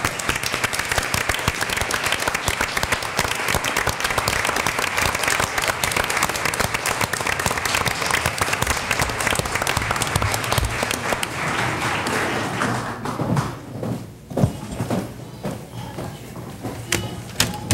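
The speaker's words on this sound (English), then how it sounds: "Let's give them another round of applause." Sustained applause fills a school board meeting room as families and faculty are honored, a steady dense clapping that thins and fades into scattered claps near the end.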